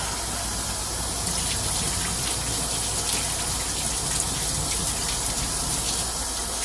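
Running water gushes steadily into a pot as produce is rinsed clean of baking soda and vinegar, a continuous broadband splashing wash that holds level for the whole stretch with no voices over it.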